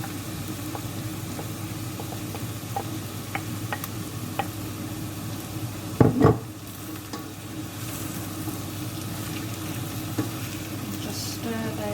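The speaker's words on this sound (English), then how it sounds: "Just stir those in, making sure everything's mixed in thoroughly." Potatoes stirred into softened leeks in a pan, a steady low sizzle with light scattered ticks and one brief louder scrape of the spoon midway.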